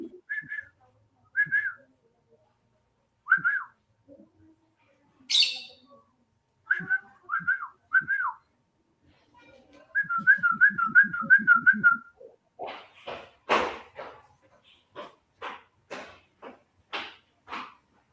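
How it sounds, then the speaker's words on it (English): A person whistles a string of high, short notes and warbling trills with pauses between phrases, close and clear, followed by a run of quick sharp clicks and taps. "I can't whistle high enough."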